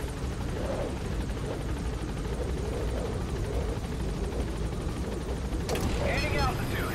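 Helicopter from the game Metal Gear Solid V, a steady loud rotor drone throughout with a radio voice speaking over it.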